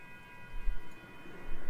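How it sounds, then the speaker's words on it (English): A train passes in the Roblox video game, heard as a short steady mechanical drone with sustained tonal whine and low rumble. "Yeah, that's the train."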